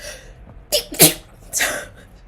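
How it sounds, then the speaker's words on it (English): A loud, close sneeze bursts out after a short intake of breath, followed by a softer second expulsion. "Oh, wow. I'm going to sneeze."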